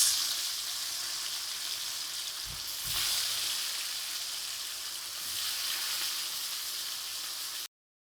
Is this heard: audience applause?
no